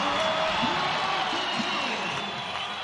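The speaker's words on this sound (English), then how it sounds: "the crowd really came to life there" A basketball arena crowd at an NMSU versus Saint Mary's game roars and cheers steadily after a hustle and-one play, a broad sustained wash of noise with scattered shouts and a commentator talking over it.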